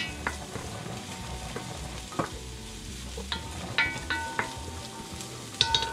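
Garlic and ginger sautéing in a pan for chicken tinola, a soft sizzle with intermittent scraping and clinking stir strokes, close and quiet with no voices.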